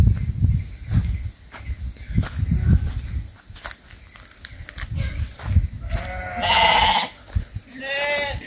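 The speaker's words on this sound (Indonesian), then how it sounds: "Nah, ini ada kambing, Sobat Keluyur." Goats in a remote forest village, Sumber Salak in southern Jember, Indonesia: soft footsteps and shuffling give way to several close, wavering bleats near the end.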